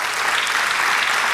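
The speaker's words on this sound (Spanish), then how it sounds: "denle el aplauso al Señor" Congregation applauding in church during a sermon, a short, dense burst of clapping at a steady level that fills the whole moment.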